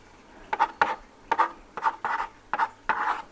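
Pen writing by hand on paper in short scratchy strokes, several bursts in an irregular rhythm, close and fairly clear with no talk.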